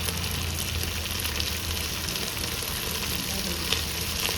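Chopped onion frying in a pan, a continuous dense sizzle with occasional stirring, steady and close throughout without talk.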